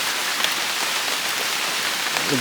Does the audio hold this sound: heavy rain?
yes